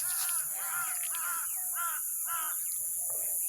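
A crow caws outdoors near rice paddy fields, giving about five harsh, evenly spaced calls at moderate distance over a constant high-pitched insect drone.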